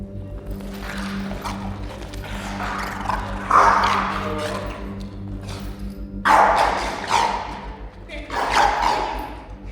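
A dog presenting as dangerous and intent on attacking other dogs gives several loud, sharp bark bursts in clusters, with a steady hum underneath throughout.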